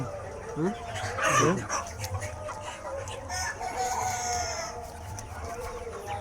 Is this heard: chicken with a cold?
yes